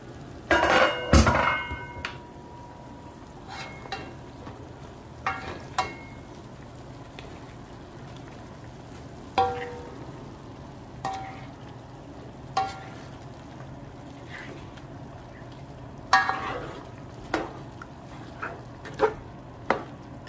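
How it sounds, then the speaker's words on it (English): Filipino adobo is stirred in a pan, with sparse clanks and scrapes of a utensil against the pan spaced irregularly over a faint low simmer. "So mix lang natin siya sandali."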